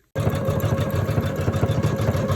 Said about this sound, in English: now the machine is stitching a